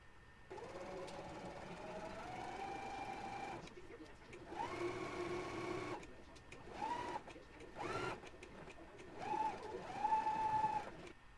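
A sewing machine sews the side seams of a simple summer top with steady, fairly quiet motor runs in several stretches. Someone talks over much of it.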